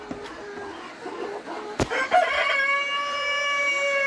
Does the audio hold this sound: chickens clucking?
yes